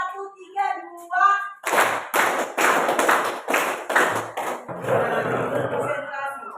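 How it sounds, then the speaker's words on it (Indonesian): A class of students claps in counted groups, sharp collective hand claps landing in short rhythmic bursts after a teacher's spoken cue, followed by looser scattered clapping that trails off. "Tepuk tangan 1 kali, 2 kali, 3 kali."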